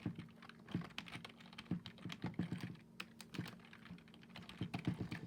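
Steady, fast clatter of keys on a computer keyboard, close and fairly quiet, with uneven bursts of keystrokes and short pauses, no voice over it.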